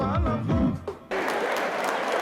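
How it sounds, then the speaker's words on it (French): Audience applause at a royal cultural gala in Cameroon honouring a traditional king, bursting in suddenly after a voice and music die away, then continuing as a steady, full clapping crowd. "On l'applaudit très fort, s'il vous plaît, pour ce grand reportage sur Sa Majesté"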